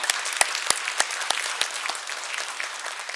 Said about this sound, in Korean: 격려 박수를 드리겠습니다.